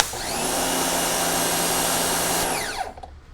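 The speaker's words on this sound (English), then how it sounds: "It does sound like a nice beefy little pressure washer." An electric pressure washer motor whines steadily at a high, even pitch, close by, then winds down and cuts off near the end.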